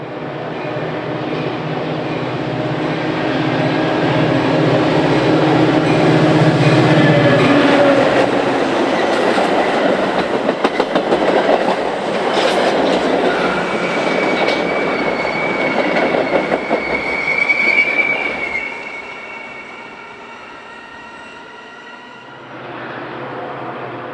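BNSF commuter trains pass and meet at Stone Avenue station, a long loud rumble of rolling cars with clickety-clack and squealing wheel tones that fades after about eighteen seconds into a quieter tail.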